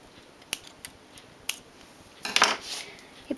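Scissors snip the knitted yarn ends near a tied knot on a machine-knitted hat, giving several crisp, close clicks followed by a short rustling burst of handling.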